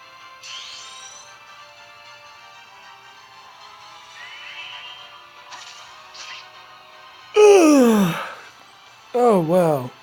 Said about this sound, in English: That was a lot of yawning